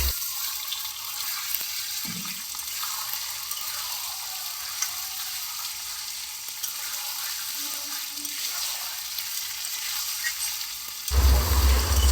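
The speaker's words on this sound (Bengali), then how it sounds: "আদা রসুনের বাটাটা তো সব কিছু দিয়ে আমি ভালো করে এখন কষবো" Meat sautés with ginger-garlic paste in a pan, giving a steady, loud, close sizzle that runs unbroken for many seconds, with faint stirring scrapes and a low thump at the end.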